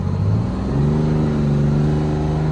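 A Kenworth W Model truck drones steadily as it drives a lap round the block, its engine rising in pitch as it accelerates, loud, close and unbroken, with no one speaking.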